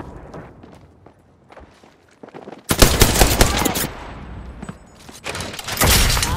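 Video game gunfire in Apex Legends: a few scattered quiet shots and footsteps, then loud sustained automatic bursts with a short lull before another heavy volley.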